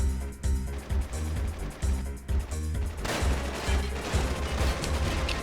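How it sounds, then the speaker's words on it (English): Rapid bursts of gunfire crack repeatedly in the video game Final Fantasy VIII, loud and close, in uneven volleys that thicken into a denser barrage in the second half. "It's gunfire."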